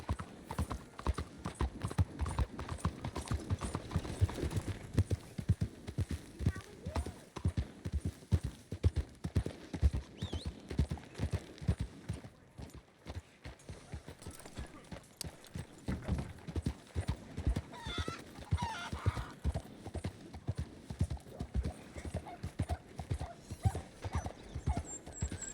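Galloping horse hooves from Red Dead Redemption 2, a steady rapid clip-clop rhythm that runs continuously while riding, with a brief softer stretch midway and faint game ambience underneath.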